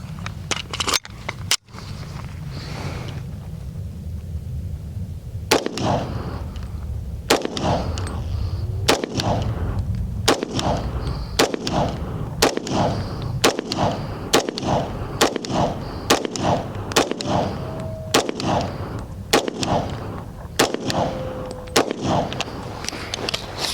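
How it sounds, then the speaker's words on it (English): A Taurus TH40 pistol fires Fiocchi rounds, roughly fifteen sharp, loud reports spaced about a second apart, each ringing out briefly before the next shot. "I'm going to go back to the Fiocchi first and do 15 more rounds"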